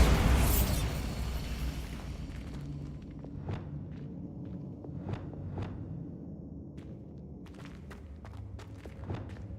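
A Bombarda spell explosion in Hogwarts Legacy: one heavy boom at the start that decays into a rumbling tail, followed by scattered sharp clicks and light impacts over quiet ambience.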